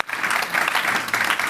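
A panel audience claps together in steady, dense applause, loud and sustained from start to finish, with no voices breaking through.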